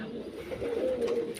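Pigeons in a standing cage give soft low coos close up, a short throaty call rising and sustained, with faint bits of voice in the background.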